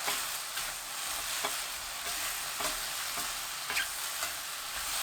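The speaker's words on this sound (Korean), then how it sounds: "1분이 지나면 진간장 3큰술, 멸치액젓 1큰술, 파 넣고 섞어주세요." Eggplant stir-fried over high heat with soy sauce, anchovy fish sauce and green onion, giving a steady close-up sizzle broken by several soft scraping stirs at an irregular rhythm, with no talking.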